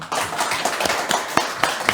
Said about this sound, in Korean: 큰 박수로 맞아주시기 바라겠습니다